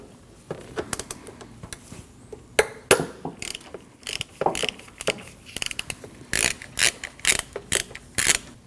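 A hand ratchet clicks in short, uneven bursts as it backs out the single 10mm bolt holding the ignition coil to the valve cover on a 2012-2021 Nissan NV2500, close up with no talk.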